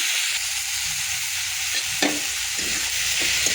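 Onions and tomatoes sizzle steadily in hot oil for an Odisha-style mushroom masala curry, with a few scraping stirs of a spoon against the pan.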